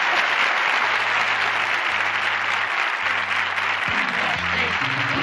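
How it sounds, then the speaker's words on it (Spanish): Big studio audience applause on a Spanish television game show, a steady, loud wash of clapping with background music notes running underneath throughout. "¿y qué te parece si cerramos con un aplauso muy grande a Moncho?"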